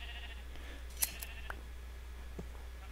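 Minecraft sheep let out a couple of faint, short bleats against quiet game ambience, with a soft click in between.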